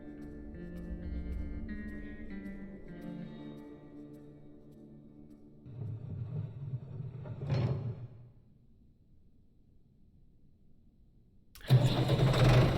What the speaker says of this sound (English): The dog can work a tractor.